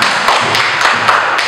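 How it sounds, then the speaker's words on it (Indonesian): A group of students in an elementary school classroom claps for group 1 as a loud, even, rhythmic applause of repeated sharp claps, close and continuous for the whole moment. "Beri tepuk tangan untuk kelompok"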